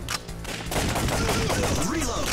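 Rapid gunfire from the arcade shooter Time Crisis, a dense, continuous burst of shots that grows louder and steadier after the first half second and runs to the end.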